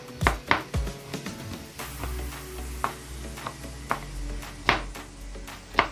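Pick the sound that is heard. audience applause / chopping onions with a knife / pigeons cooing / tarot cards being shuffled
chopping onions with a knife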